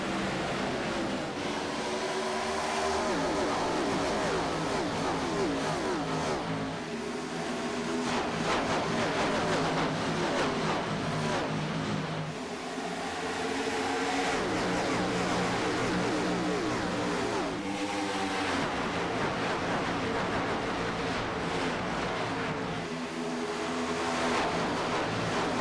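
NASCAR Winston Cup stock cars race at Kansas Speedway in the 2004 Banquet 400. The engines make a continuous loud roar, with rising and falling sweeps as packs of cars pass, and there is no talk over them.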